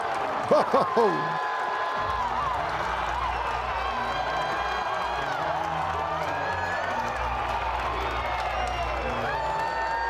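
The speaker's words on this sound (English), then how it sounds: "And listen to the crowd." College baseball crowd at Oklahoma State versus BYU roaring after a game-tying triple, a sustained distant cheer and murmur beneath steady broadcast commentary, with a few sharp knocks at the start.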